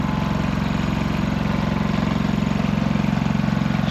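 A Predator 3500 inverter generator runs at a steady close, loud drone with a fast even pulse, holding a constant idle through the stretch.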